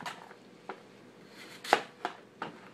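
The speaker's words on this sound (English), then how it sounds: "This is just some little non-chopping knife that makes it really difficult to cut." A small dull non-chopping knife cuts through crisp apples for a cranberry pie, giving about five sparse, sharp crunching cuts spaced irregularly over a faint quiet background.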